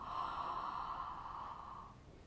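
A single long, soft exhaled yawn during a singing breathing exercise, breathy and steady for about two seconds before fading, quiet and close with no talk over it.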